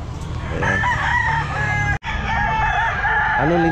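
A gamefowl rooster crows loudly and close at a busy pet market, its long calls repeating over steady crowd hubbub and other fowl clucking, with a brief dropout midway.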